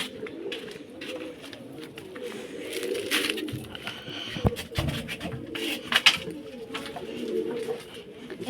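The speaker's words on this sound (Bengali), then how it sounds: "এইখান থেকে সব আধেক পায়রা ওই খোঁপেতে চলে যাবে" Pigeons in a pigeon loft coo softly and steadily at close range, with rustling, fluttering and scattered bumps around them.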